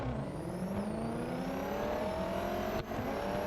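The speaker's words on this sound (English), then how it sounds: "that engine sounds exactly like one of the Lexus cars" A race car engine in the Real Racing 3 video game whines steadily at high revs, pitch rising and dipping slightly as gears shift, loud and continuous with no voices.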